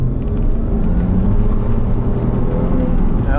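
A factory turbocharged car in second gear, its engine droning loud and steady with road roar and a faint whine as the wheels spin briefly, heard from inside the cabin.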